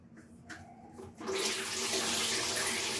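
Water starts flowing through a Sikebang shower heater, turning from faint trickles into a loud, steady hissing rush of running water that continues to the end.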